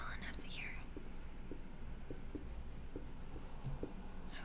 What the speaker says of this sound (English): Try to write small enough here.